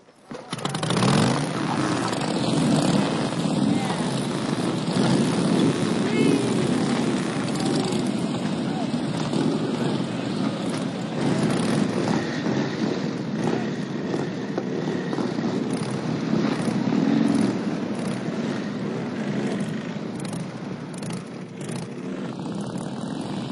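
A steady, loud engine drone of a flying helicopter, continuous and close throughout, with a faint rhythmic beat and voices occasionally under it.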